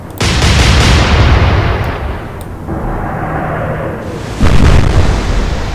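Naval gunfire in the warship game Atlantic Fleet, with loud close booming salvos. A heavy blast opens, a second report follows mid-clip, then another thunderous boom rolls out with a long decaying rumble.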